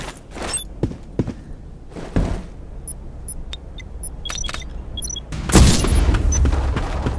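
Gunshots ring out during a clan war match in a video game, with sharp cracks early, a couple of heavy booms, scattered metallic clinks, and a louder burst of fire near the end.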